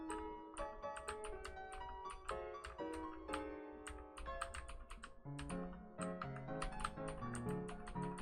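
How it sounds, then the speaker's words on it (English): Rapid, crisp clicking of a computer keyboard being typed on, continuous and close, with irregular bursts of keystrokes and no talking. "I know you can hear all the clickety-clacking of my keyboard"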